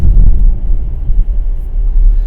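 A 2018 Audi Q5 SUV drives over a rough road, heard from inside as a loud, steady low rumble of road and tire noise with slight fluctuations.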